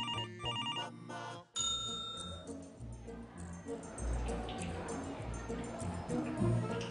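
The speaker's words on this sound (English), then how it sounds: "Or whether she can hear your phone ring?" A telephone rings with a bright electronic tone near the start, followed by a soft nursery-like musical background with a baby's sounds; brief and moderately loud, with no speech.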